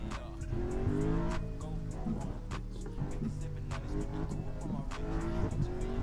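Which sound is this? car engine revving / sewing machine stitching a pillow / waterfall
car engine revving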